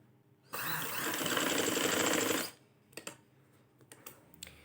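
A sewing machine stitches an embroidered shirt being reworked into a jacket, whirring steadily for about two seconds before stopping. A few light mechanical clicks and taps follow, close and alone, with no talking.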